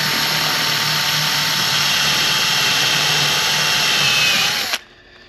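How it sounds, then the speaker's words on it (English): A power drill bores holes into a plexiglass boat windshield, a loud, steady high-pitched whine held for several seconds before cutting off abruptly. "2 drill holes successfully without shattering it."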